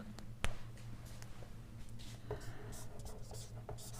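Pen scratching on paper while working through a geometry proof on congruent triangles in a Class 9 maths lesson, a close run of short strokes and taps under a teacher's steady speech.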